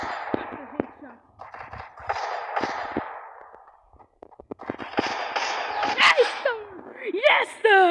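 Gunfire rings out in a video game, with sharp individual shots and short bursts scattered between excited talking and exclamations, followed by bright metallic pings and electronic effects.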